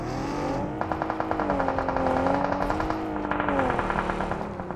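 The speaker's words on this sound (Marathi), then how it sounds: "Watch out! हे गाडी येते." Vehicle engine in the battle royale mobile game BGMI (PUBG Mobile) approaching during a scrims match, a steady revving drone with rising pitch that swells louder, accompanied by periodic clicking game effects.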